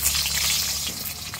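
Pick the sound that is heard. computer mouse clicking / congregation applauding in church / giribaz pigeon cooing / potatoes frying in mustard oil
potatoes frying in mustard oil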